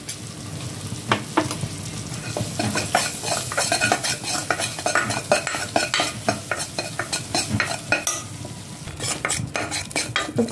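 Cauliflower coated in flour and pepper fries in a pan, a continuous sizzle broken by frequent scraping and stirring clatters of a utensil against the pan, close and moderately loud, with no talk.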